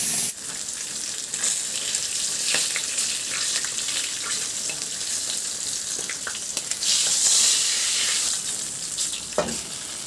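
Steady oily sizzling and spitting of food frying in a pan, close and continuous, with a few clinks and scrapes over it.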